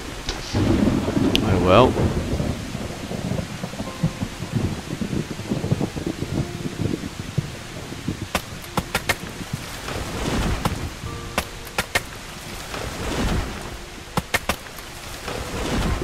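Steady heavy rain in a video game downpour hisses throughout with rumbling thunder and scattered sharp crackles; a man briefly mutters near the start.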